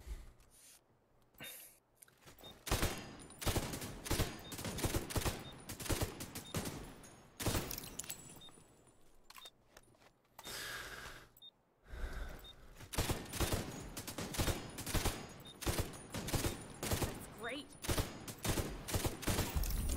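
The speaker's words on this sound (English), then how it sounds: "Heck yeah, incredible shooting." Dense automatic gunfire from The Division video game, a long run of rapid overlapping bursts and shots, loud and continuous with only brief lulls, while a voice talks over it at times.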